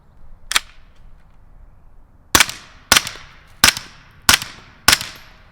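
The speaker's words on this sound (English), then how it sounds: "Now I'm going to shoot it at 100 yards." Six suppressed shots from a Bam Machine BM15 pistol-caliber carbine crack out sharply at an outdoor range, one isolated shot followed after a pause by five more at a steady, even interval, each with a short decaying tail.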